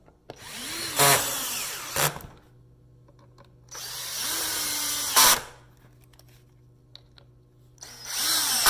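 A power drill tightens Fastcap three-way clamps on a wooden glue-up, running in three loud whirring bursts separated by quieter pauses, with no speech.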